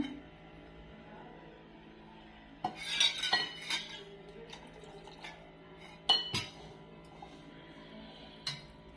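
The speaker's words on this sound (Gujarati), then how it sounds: "આપણે એક જ ડાયરેક્શનમાં હલાવવાનું છે" A spoon stirring biscuit cake batter in a bowl as milk is added, giving scattered clinks and scrapes of metal against the dish, a few sharp knocks standing out over quiet background, no speech.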